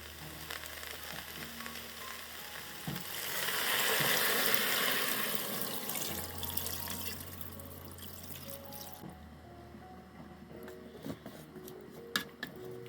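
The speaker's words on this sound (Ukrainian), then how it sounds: "І заливаю водою." Water poured into a multicooker bowl over rice with a whole garlic head set in the middle, a soft rushing pour that swells for a few seconds and then trickles away, ending in faint clinks.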